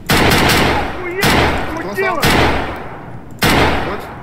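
Rapid gunfire in the Escape From Tarkov shooter game, with four loud, sharp bursts roughly a second apart that each ring out and fade, and a voice talking between them.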